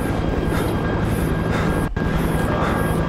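A helicopter in the video game They Are Here, a loud, close, continuous rotor drone with a rhythmic chopping pulse and a brief dip in the middle, no talk.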